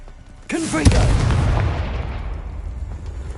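Confringo blasting curse explosion in Hogwarts Legacy, a swooshing spell cast followed by a sharp loud blast and a long, deep rumbling decay.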